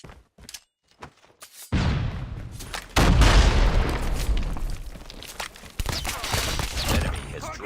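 Grenade blast in a Call of Duty match: a heavy boom erupts and rolls into a loud, sustained rumble with scattered gunfire bursts and pops, following quieter clicks and voices from players.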